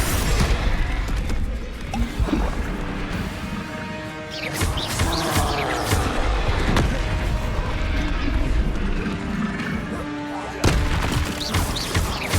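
Bombarda explosion spells in Hogwarts Legacy, several loud booming blasts and crashes in quick succession, with rumbling debris and game effects layered through a mine setting.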